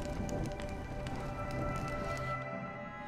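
Rain falling in Honkai Star Rail, a steady dense patter that continues evenly and fairly loud throughout, with no talk over it.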